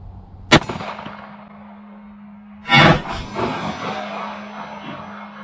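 A Sig Sauer P365 pistol in .380 fires Remington UMC rounds: two sharp, loud shots about two seconds apart, each followed by a metallic ringing tail and a steady background hum.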